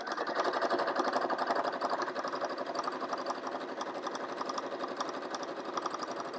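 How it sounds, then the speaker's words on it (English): A domestic sewing machine, not a dedicated quilting model, free motion quilts through cotton batting with a fast, even rattling hum that holds close and steady without talk. "you can stitch through this on any machine. I mean, this machine is not a quilting, is not a quilting machine, but as you can see, I'm quilting."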